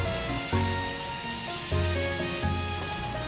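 Chicken adobo sizzling in oil in a pan with half an onion added: loud continuous frying crackle with a few louder hissing surges as ingredients are stirred or dropped in, close and steady, no voices.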